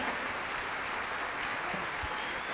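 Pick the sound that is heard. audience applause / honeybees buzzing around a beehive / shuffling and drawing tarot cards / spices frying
audience applause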